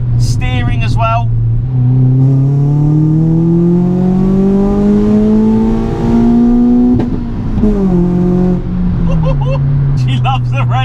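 A Ford Fiesta MK6 ST hot hatch engine revs loud and close, climbing steadily toward the red line and falling back, with a gear change and someone talking over it at the start and end.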